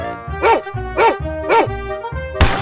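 Cartoon dog barking in an animated clip, three evenly spaced loud bow-wow barks with a short burst of noise at the end, no speech.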